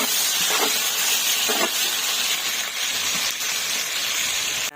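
Two kilograms of chopped onions frying in oil in a large pot for chicken biryani, a loud continuous sizzling hiss with a few faint clinks of stirring, close and steady.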